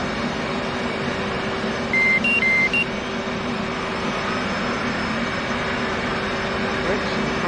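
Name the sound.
F/A-18 systems waking up with self-test beeps, DCS World video game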